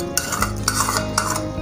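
Chicken being stirred and mixed in a marinade of soy sauce and ginger-garlic paste, giving repeated soft wet scraping strokes against a bowl, close and fairly steady with a low hum underneath.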